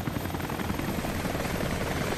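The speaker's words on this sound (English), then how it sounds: "Helicopter." Helicopter in the video game Rise of the Tomb Raider, a steady loud rotor roar with rapid blade chop filling the whole stretch, no talk over it.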